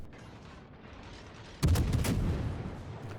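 Naval guns fire in World of Warships, a sudden loud boom followed by a rolling, rumbling tail of several more heavy blasts over low background noise.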